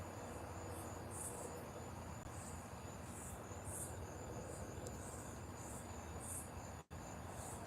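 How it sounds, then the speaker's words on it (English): Steady, faint insect chirping repeats in short pulses over a dense, rumbling background noise, with no voices. "I like hearing the crickets."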